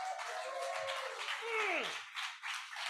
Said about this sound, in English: they're clapping on Zoom too